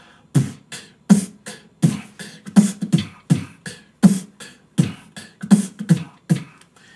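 Close, dry beatboxing: a rhythmic pattern of punchy vocal kicks and sharp snare-like bursts repeating steadily, a voice imitating a drum beat.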